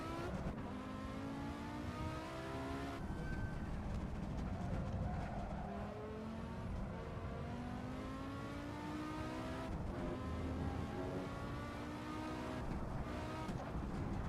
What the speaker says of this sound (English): Ooh, a little bit of an over rev there.